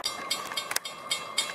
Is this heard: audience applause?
no